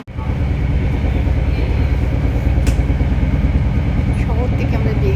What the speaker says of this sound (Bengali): ট্রেনের উপরে উঠলাম, আমরা ট্রেনে উঠে গেছি